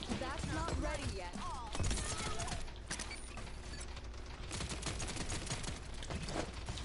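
Rapid gunfire bursts from the Paladins hero shooter, with dense, overlapping shots and mechanical clatter running steadily through the whole stretch under game voice lines and music.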